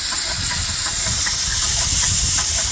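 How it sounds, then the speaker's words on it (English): A Dake square piston steam engine runs on compressed air, giving off a loud, constant hiss with a quick, even beat of exhaust puffs and no speech. "So there you have the Dake square piston steam engine."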